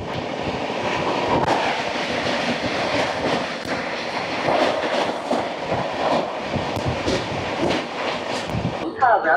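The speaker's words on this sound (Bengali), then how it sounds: "চলে আসছে train number 22-160, Bikaner Sealdah AC দুরন্ত এক্সপ্রেস" The Bikaner–Sealdah AC Duronto Express arrives at a station with a continuous rumble and clatter of passing carriages, steady and fairly loud, punctuated by repeated rhythmic knocks of wheels over rail joints.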